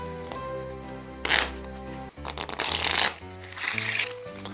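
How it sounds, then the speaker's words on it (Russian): Playing cards shuffled by hand in bursts, with crisp riffling and flicking rattles that come and go over a few seconds, close and clear above a faint musical background. "потом тасуете, да, как следует"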